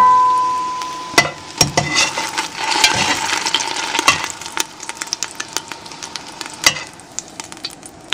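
Italian-style meatballs frying in a non-stick pan, a steady close sizzle punctuated by sharp pops and clinks of a utensil against the pan.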